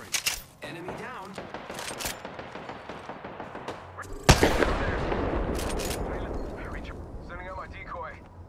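Video game gunfire as enemies shoot at the player, with rapid bursts of shots and a sharp loud blast midway followed by a sustained rumbling barrage, while a synthetic character voice talks over parts of it.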